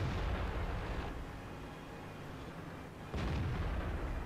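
Within a tank video game, heavy artillery booms land on a tank, a loud blast opening and a second rumbling impact arriving about three seconds later, with a dull roar continuing between them.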